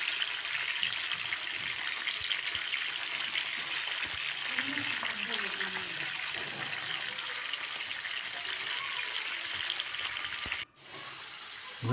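A whole stuffed chicken cooking in a pot produces a constant, even sizzling hiss close by for most of the time, cutting off abruptly near the end, with a faint voice underneath.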